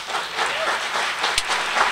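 Applause from a church audience at a theology talk, a steady wash of clapping that fills the room and holds at an even level throughout.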